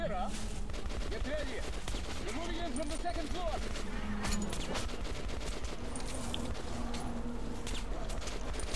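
Pistol gunfire in the video game Metro: Last Light crackles as a rapid series of sharp shots, mixed with other game noise and heard under a talking voice.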